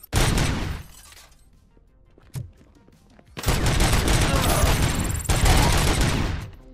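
Gunfire in the video game Robocop: Rogue City: a loud opening volley, a brief lull with a single sharp shot, then a long, dense barrage of rapid shots with shattering impacts.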